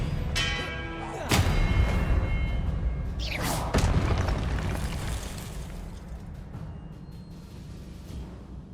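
Spells going off in the video game Hogwarts Legacy: two heavy booming blasts roughly two seconds apart, each trailing a rumbling, ringing decay, with magical chimes over a low steady background and a voice calling out spell names.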